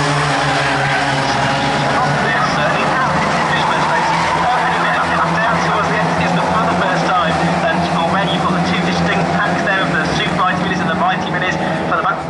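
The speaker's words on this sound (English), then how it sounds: "you've got a gaggle of minis coming towards you" Classic Mini race cars charging toward a corner at Castle Combe circuit, a loud, continuous pack of engines droning and revving, with tyre noise, under steady commentary throughout.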